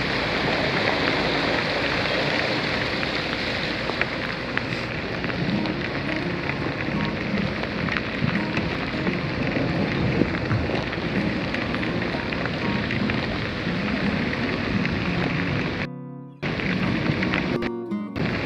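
Heavy rain pours steadily in Da Lat, Vietnam, a dense, loud, continuous wash of drops on surfaces with runoff water, holding at one level before briefly dropping out near the end and returning.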